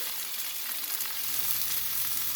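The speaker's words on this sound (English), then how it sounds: "Let the gochujang sauce cook through" Gochujang sauce with seafood cooking in a pan, a loud, dense, continuous sizzle heard up close and alone.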